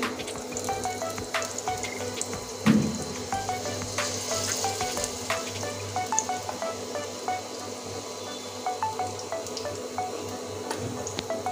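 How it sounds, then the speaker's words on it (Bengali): Katla fish belly pieces coated in spice paste frying in hot oil, giving a steady close sizzle with scattered pops and crackles and one louder spatter near the start. "তার জন্য এখন আমি তেলে ভেজে নিচ্ছি।"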